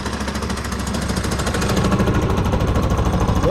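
A motorcycle engine runs rough and noisy at close range with a rapid, steady mechanical knocking and clatter, suspected at first to be a connecting-rod fault.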